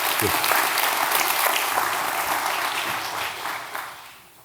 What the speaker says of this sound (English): another round of applause for these guys that are doing such a great job